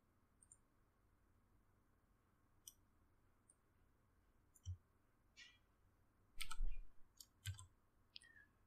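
A computer mouse clicks sharply and sparsely in a quiet room while someone builds an Excel add-in. A few isolated clicks come first, then a quick cluster of clicks near the end, with no talking.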